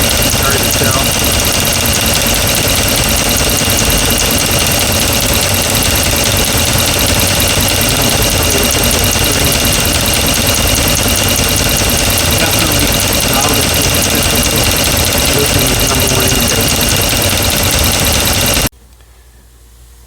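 Rebuilt 5.7-litre engine in a 2009 Ram pickup idling steadily with a ticking sound, loud and continuous for about nineteen seconds before cutting off abruptly.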